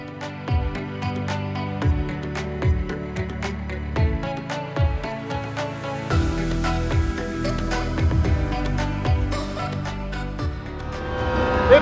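An SVS 5.2.2 home theater system plays back demo content in a trade-show booth, heavy repeated low-end rumble and swelling tones resembling traffic, loud and continuous throughout.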